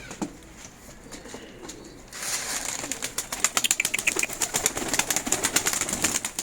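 Pigeons in a loft, beginning with quieter rustling, then a burst of close, loud wing flapping with rapid repeated beats, with soft cooing mixed in.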